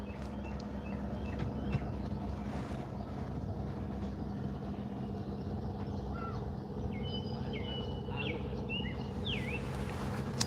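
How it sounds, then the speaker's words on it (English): Scattered bird calls, thin sliding cries that could be gulls, ring out at a distance over a steady low engine drone aboard a sailing boat. "I just heard a crow. Nah, maybe not a crow. Maybe it is a seagull."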